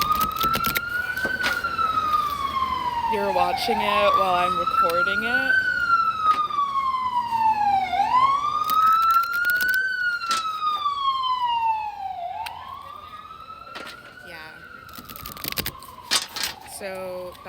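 A wailing emergency vehicle siren rises and falls in slow repeated sweeps for most of the stretch, fairly loud and steady, then fades toward the end while a person talks over it.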